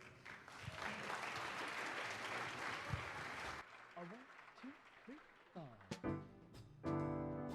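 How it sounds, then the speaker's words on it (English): Audience applause at a 2021 fintech show, a dense clapping wash for the first few seconds that fades out as a presenter begins talking. "So round of applause for those coming up."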